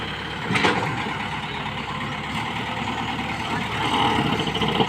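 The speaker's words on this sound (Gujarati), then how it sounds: "हमारा ट्रेक्टर में पण जेसीबी द्वारा गोबर भराई रह્યું છે" A JCB loading cow dung into a tractor on a farm field, with both engines running in a steady, loud mechanical drone and rumble that holds throughout, swelling slightly near the end.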